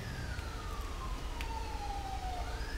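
A fire engine siren in GTA 5 wails with a sliding pitch that falls slowly across the clip, steady and fairly loud over a low rumble of traffic and engine noise, with no talking.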